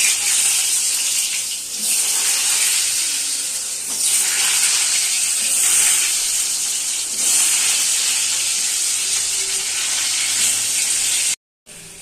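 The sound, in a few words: potatoes frying in oil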